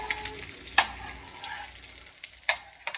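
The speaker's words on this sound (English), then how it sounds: "And you frying eggs?" Eggs crackle and sizzle in a hot pan, with occasional sharp pops and scraping stirs.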